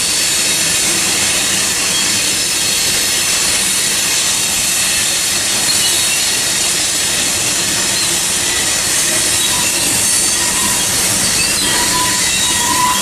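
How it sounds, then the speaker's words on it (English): A grain train rolls past on Tehachapi, its wheels squealing loudly and continuously against the rails, with a steady roar of railcars close by and no voices. "the third grain train on Tehachapi today"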